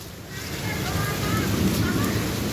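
Hail and heavy rain falling during a destructive May windstorm, a dense continuous clatter and roar that stays loud throughout, with no voices over it.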